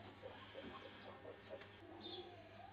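Pigeons and doves, including laughing doves, gather at a spot with scattered grain and water, giving soft low coos in short repeated phrases, close and quiet over a faint steady hum.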